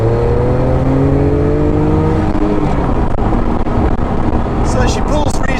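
A Noble M12 GTO-3R accelerates in third gear to about 3,500 revs with a loud, rising engine note heard from inside the car, and someone talks over it.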